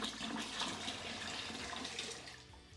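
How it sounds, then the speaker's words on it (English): Clayey water being poured into a container for home winemaking, a steady, close rushing and splashing that runs continuously without a break and eases slightly near the end. "And now we pour this clayey water in."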